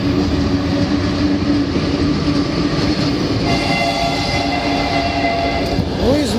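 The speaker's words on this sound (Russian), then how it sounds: "А сейчас будет ехать поезд." A train rolls over a railway level crossing with steady loud rumbling and wheel clatter, and tonal horn or bell-like tones come through in the later seconds, all close and without talk.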